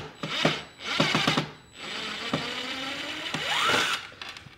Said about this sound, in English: I know you hear me bumping that drill a little bit there